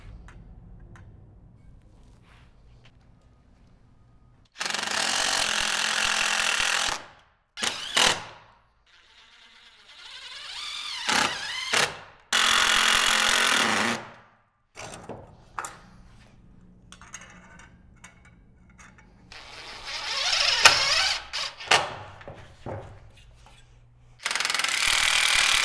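A power driver sinks color-matched self-tapping square-head tech screws into the brackets of an Aria Railing gate kit, in several loud, close whirring bursts of one to three seconds each, with quiet pauses between them.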